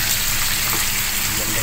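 Steady, dense crackling sizzle of fish frying in hot oil, close by and continuous throughout.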